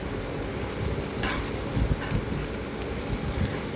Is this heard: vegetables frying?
yes